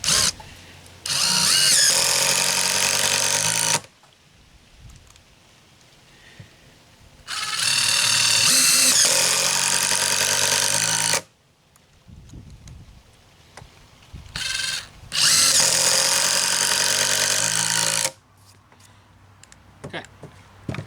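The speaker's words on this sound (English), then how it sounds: "Doing the 3-inch screws." A DeWalt Xtreme 12-volt subcompact drill drives 3-inch screws in three long loud bursts of several seconds each, with quiet gaps and small handling noises between them.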